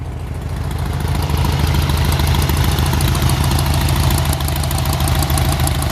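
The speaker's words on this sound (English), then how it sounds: "I'll go ahead and fire this one up for you." A 1970 VW Manx-style dune buggy with an air-cooled four-cylinder engine and a new carburetor idles close by, a loud, steady, even chugging that drones on without a break.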